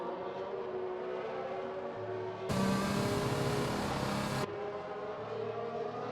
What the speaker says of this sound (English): I could hear that nice sounding, beautiful red Mercedes safety car.